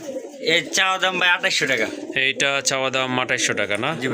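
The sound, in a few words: pigeons cooing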